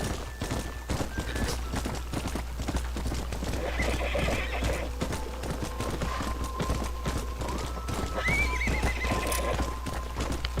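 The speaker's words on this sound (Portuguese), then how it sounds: "Quase que eu caí do penhasco com meu cavalo" Horse in Red Dead Redemption galloping with rapid rhythmic hoofbeats and several loud neighs and whinnies, close and continuous over the game's ambient sound, with no talk.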